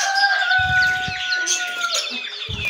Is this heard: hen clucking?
yes